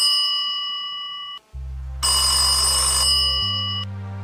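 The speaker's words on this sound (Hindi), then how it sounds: "जल्दी से घर जाकर अपने भाई राम को फोन करता है।" A telephone rings with bright, steady electronic tones, loud and close, while low droning notes swell in underneath.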